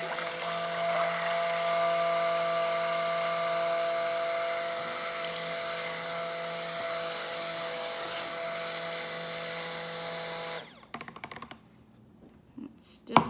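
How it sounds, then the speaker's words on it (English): A stick blender runs steadily through soap batter, giving a continuous close motor whine with a high whirring tone for about ten seconds before cutting off and leaving faint clatter. "I'm gonna blend this a little bit more so it can help thicken it up."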